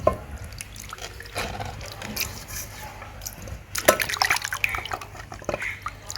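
Fish being washed by hand in water in a village kitchen, splashing and dripping steadily at close range, with brief louder sloshes and faint background voices.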